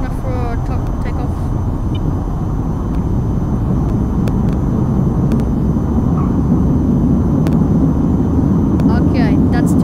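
A jet aircraft taking off in the flight game VTOL VR gives a steady, loud engine roar that holds level throughout, with a voice talking over it.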